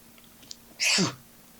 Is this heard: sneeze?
yes